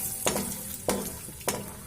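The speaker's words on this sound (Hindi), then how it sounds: "अब इसमें मूंगफली का दाना डाल देते हैं।" Raw peanuts tipped into hot oil in a kadhai on a gas stove, frying for chivda: three loud sizzling bursts, each fading into steady crackle, with no talk.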